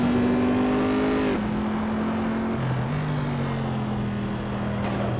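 A Corvette C7.R race car engine in Assetto Corsa drones at high revs, with tonal shifts as gears change and the pitch steadily climbs, loud and close, no talking.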